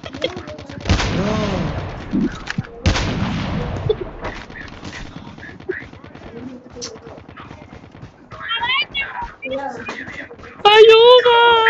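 Loud video-game gunfire cracks in bursts and single shots, with heavy blasts early on, while excited voices shout and talk over and between the shots.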